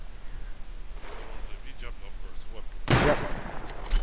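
Gunfire in the survival video game Rust: a loud, sharp shot bursts out near the end over a low, busy background, with faint voices murmuring earlier.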